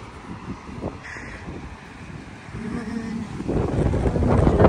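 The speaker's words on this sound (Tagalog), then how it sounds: "Dito hangin." Strong wind gusts buffet the microphone on a cold beach, a steady broadband rumble that swells louder toward the end, with a brief bird call near the start and faint low tonal sounds in the middle.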